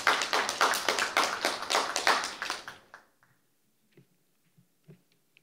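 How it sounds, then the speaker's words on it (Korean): Audience applause at an academic symposium on Korea-China relations, a brief burst of many hands clapping that fades out after about three seconds, followed by near silence with a few faint taps and shuffles. "큰 박수 부탁드립니다."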